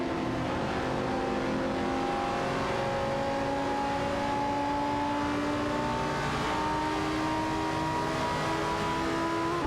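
Race car engines, including an Aston Martin DBR9, whine in a racing video game. The sound is a faint, steady layered drone, with engine notes gradually climbing in pitch.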